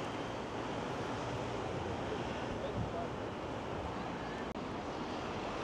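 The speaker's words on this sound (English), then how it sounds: "so we can certainly feel the wind" Strong wind buffeting the microphone on the Blackpool seafront before a storm, a constant roaring rush with no gusts standing out and one brief knock, loud and close, no voices.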